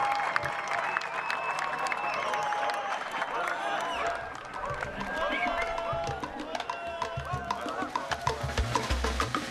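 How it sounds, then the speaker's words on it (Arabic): An audience at a ceremony for President Sisi claps steadily with dense, continuous applause that runs throughout, with scattered cheering and voices mixed in. "وأريد شباب أفريقيا أن يصفقوا لك"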